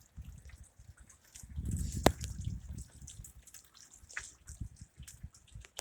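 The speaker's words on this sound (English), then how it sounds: "And it's been raining since yesterday afternoon." Rain dripping and water trickling outdoors on a wet December day in central Minnesota, faint scattered drips and a soft trickle with one sharp louder drop midway.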